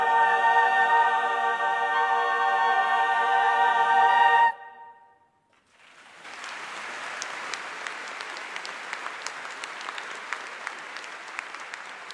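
After a sustained sung note from singers at a university welcome day ends and a brief silence follows, the audience breaks into steady, fairly distant applause with scattered sharper claps that continues to the end.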